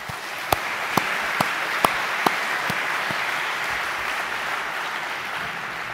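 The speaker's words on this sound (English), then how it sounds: "Je crois que vous pouvez les applaudir" An audience at the Peace and Sport International Forum 2011 applauds the champions with a steady wash of clapping, a few sharp louder claps standing out early, then a sustained even roar.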